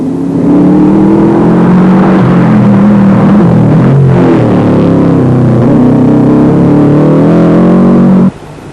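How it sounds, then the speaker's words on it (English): A Subaru rally car races down a mountain stage near Ohakune in a 1996 snowline rally, its engine a loud, steady, close drone with slight pitch shifts before cutting off sharply near the end. "Subaru of Paddy Davidson races down the mountain and into Ohakune"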